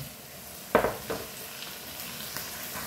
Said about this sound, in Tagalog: lagay na rin natin ang chicken